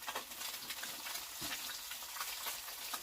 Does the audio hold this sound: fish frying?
yes